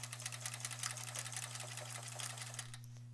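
A sewing machine stitches in a fast, steady rhythm during free-motion ruler quilting, running close and alone under a constant hum, then stopping near the end.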